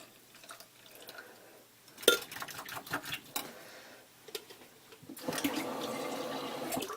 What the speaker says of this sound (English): I always rinse my coffee pot out before I shut it off.